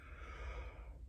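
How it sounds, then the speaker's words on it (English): A single drawn-out yawn with breathy, sighing air, close and quiet, heard alone on a beach-memories recording. "there's something, all this yawning"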